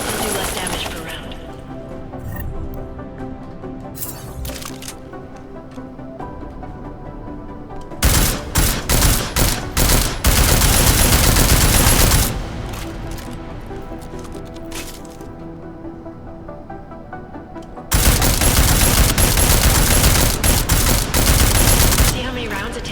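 Bursts of rapid automatic gunfire hammer an armored target in the video game Deus Ex: Mankind Divided, two loud sustained volleys of several seconds each separated by quieter stretches of ambient game sound.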